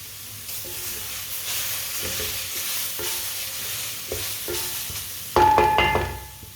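Carrots sauté in a pan with a steady soft sizzle under repeated scraping stirs, ending with a louder clattering stroke near the close.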